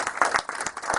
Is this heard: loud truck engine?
no